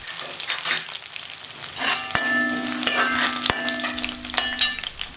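Small onions sautéing in a pan for a vegetable curry with bottle gourd and beans: bright crackling sizzle alongside sharp metallic spoon knocks and a ringing scrape against the pan, close and continuous.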